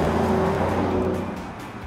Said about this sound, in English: when you put that foot to the floor, it opens up wide and gives you the full exhaust note